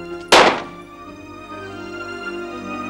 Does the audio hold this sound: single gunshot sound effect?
yes